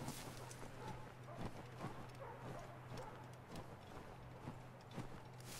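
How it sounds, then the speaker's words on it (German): Horses plod through deep snow in Assassin's Creed 3, a steady run of soft hoof clops and crunches over a low constant game ambience, moderately quiet. "Und ja, sind hier Pferde."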